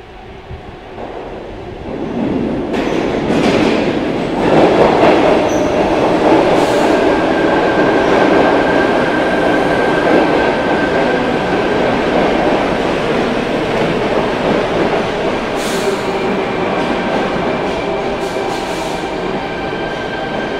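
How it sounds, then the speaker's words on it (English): A Sydney Trains Bondi Junction service pulls into platform 24 at Central Station, a loud, close, continuous rumble with rail hum, faint wheel squeal and the clatter of passing cars. "We have a Bondi Junction service approaching platform 24"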